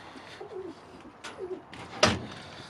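Birmingham Roller pigeons coo softly inside a loft, a few low, rounded calls spaced out over a couple of seconds, followed by a sharp, louder knock like a door or wooden fitting.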